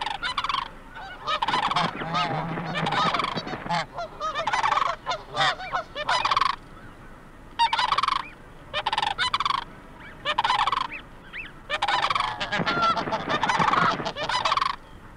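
Snow geese honk loudly and repeatedly while defending their goslings from sandhill cranes, overlapping bursts of harsh calls in an agitated, irregular rhythm, close and dominant throughout.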